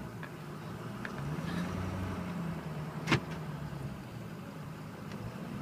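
A 2005 Ford F350 diesel 4x4 pickup on the move, heard as a steady low cabin rumble with road noise throughout and a single sharp click around the middle; no one speaks.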